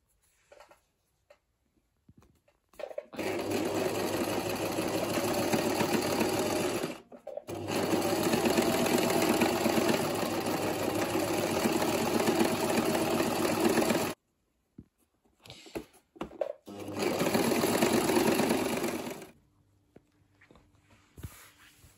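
A sewing machine stitching around a ruched fabric headband, running in three long steady whirring bursts separated by short pauses, close and clear with no talk.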